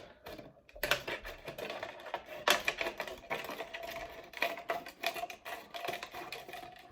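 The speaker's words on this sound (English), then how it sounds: "if you start cutting the bottom of the bottle, it is much easier to cut it" Scissors snip steadily around the base of a plastic water bottle, making a close run of crisp, irregular crunching cuts with no talk.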